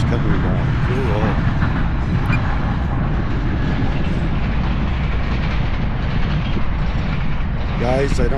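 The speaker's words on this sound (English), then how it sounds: "Two trains coming down." Two trains pass together outdoors, a continuous heavy rumble and rail clatter, loud and close throughout, with wind noise and a few voices heard underneath.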